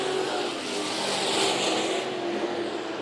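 Race car engines roaring through a heat race at Bakersfield Speedway, a continuous loud blur of several cars passing at full throttle with a rising and falling sweep, no voices over it.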